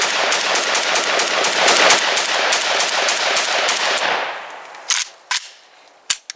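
Rapid strings of gunshots from an Arsenal SAM7K pistol fill the first four seconds as loud, dense bursts with heavy concussion, followed by a few single sharp reports spaced apart near the end.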